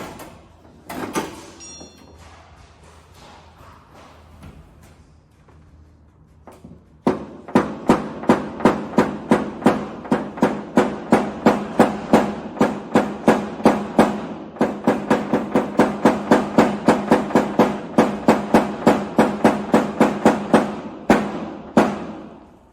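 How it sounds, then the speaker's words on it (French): Car body sheet metal flattened during paintless dent repair: a long, steady run of sharp, evenly spaced tapping knocks, close and loud, preceded by a few quieter scattered clicks. "N'hésitez pas à pousser un peu plus et de venir aplanir la tôle par-dessus."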